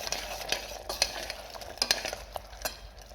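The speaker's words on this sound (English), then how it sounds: "last stir" Food sizzles in a frying pan while a utensil stirs it in repeated sharp scrapes and taps over a steady close hiss, alone without talk.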